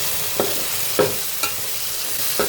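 Mint leaves frying with ginger garlic paste for chicken biryani, a loud, even, close sizzle with a few soft scrapes of a spoon spaced through it and no voices.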